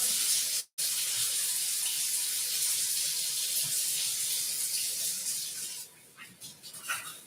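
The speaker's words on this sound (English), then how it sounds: "Washing hands." Hands washed under a running kitchen tap, a steady close hiss of flowing water with a brief cutoff early on, then splashing and rubbing as the flow changes toward the end.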